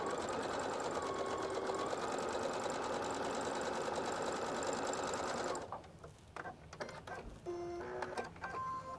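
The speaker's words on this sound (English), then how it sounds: "Then we're going to make 2 blocks, so I'll sew the second one together here." A domestic sewing machine stitches quilt block pieces, a loud steady whirring run that stops abruptly partway, followed by quieter clicks and handling sounds of fabric and the machine.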